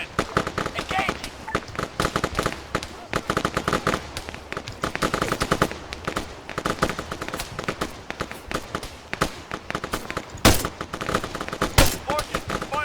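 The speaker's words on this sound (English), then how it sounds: "Armstrong, Everett, fire at that soldier, northwest." Sustained automatic and rifle gunfire in an Arma 3 combat mission, dense rapid bursts crackling throughout with a few louder sharp shots near the end, while voices talk over it.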